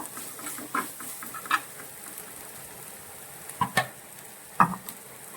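Crushed spice paste with curry leaves being stirred in a pan for a prawn and raw banana thoran, with quiet scraping and a few distinct spoon knocks against the pan over a low sizzle.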